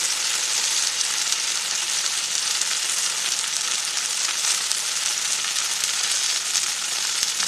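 Onions and tomato paste fry in a pan with a loud, dense, continuous sizzle, a steady bright hiss that stays even from start to finish with no voices over it.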